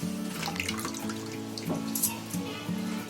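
Soaked soybeans being drained of their soaking water, a close trickle and splash of water falling from the beans with small drips, steady at moderate level.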